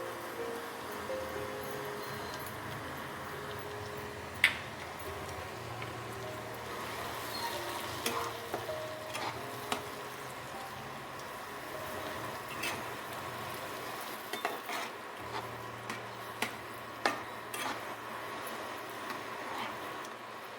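Onions fried deep red sizzle with freshly added ground spice paste, turmeric to follow, as kasundi vola is cooked in a pan; a steady close frying hiss runs throughout with occasional sharp clicks of stirring, no talking.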